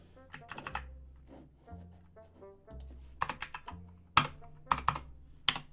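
Typing on a computer keyboard during a programming session, scattered clusters of sharp key clicks with short pauses between them, close and fairly quiet, with a low steady hum underneath.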